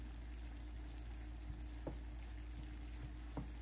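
Leafy greens sauté in a pan until wilted, a faint, steady sizzle with occasional soft pops and stirring taps close by, no talking.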